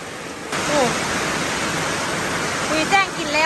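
Heavy rain pours down steadily on an evening outdoors, a dense, loud hiss that starts abruptly and then roars on without a break, with faint voice-like traces mixed in.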